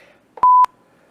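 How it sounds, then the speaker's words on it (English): A single short electronic bleep, a clean steady tone lasting a fraction of a second against near silence. "A bleep."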